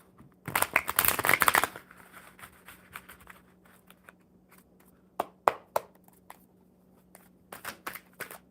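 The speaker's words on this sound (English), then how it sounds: "One more shuffle and we'll see what else falls out." A deck of tarot cards is riffled in a loud, dense burst, then quieter card taps and flicks follow sporadically under a low steady hum.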